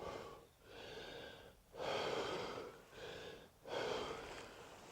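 Heavy, rhythmic breathing during a neck rehab exercise, with several long broadband inhale and exhale cycles at a steady pace, close and fairly loud, and no talking.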